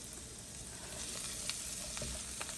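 Spinach sautés in a pan over a gas flame turned up to medium. A steady, dense sizzle and hiss continues throughout, with a few soft stirring taps, close by and with no talk.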